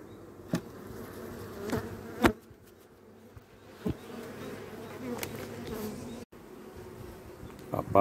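Honey bees buzz steadily around an open MER-type hive while a brood frame is handled, a dense close swarm drone with a few sharp knocks and clicks from the frames and no voices.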